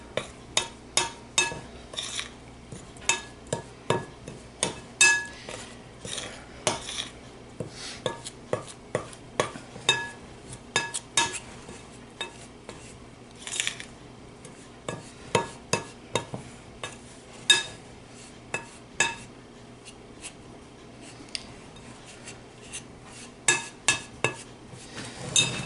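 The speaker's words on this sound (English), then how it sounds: "stir this up." Spoon clinking and scraping against a bowl while pineapple bar batter is stirred, a long run of irregular close taps and knocks with no talk.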